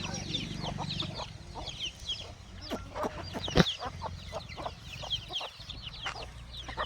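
Free-range village hens cluck in short, irregular bursts amid general farmyard bird chatter, with a fairly steady low hum underneath; one sharper squawk stands out midway.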